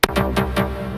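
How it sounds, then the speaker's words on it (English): The High Rise preset from the Plux bank in Phase Plant sounds as a short burst of four quick synth stabs. The sharp initial hit is followed by sweeping notes over a held low tone, loud and with nothing else heard. "It's just a preset. It's high rise"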